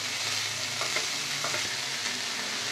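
Chopped onion and frozen peas fry in a pan over a low flame while being stirred, giving a steady close sizzle broken by soft scraping strokes, with no talking.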